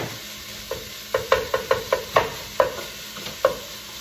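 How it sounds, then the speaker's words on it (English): Meat browning in a pan over medium heat while tortellini are made, with a run of separate clacks from a utensil stirring and scraping, about nine spaced hits over a soft steady sizzle, close and fairly loud, no talking. "We're cooking the meat on medium"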